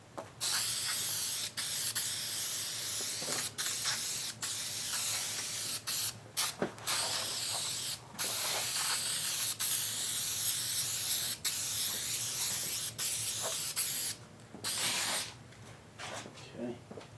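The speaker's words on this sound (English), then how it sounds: "3M all-purpose spray adhesive." 3M all-purpose spray adhesive sprayed onto upholstery material for a Ford F100 door panel: repeated loud, hissing aerosol bursts with short gaps between them, close up, with no talk over them.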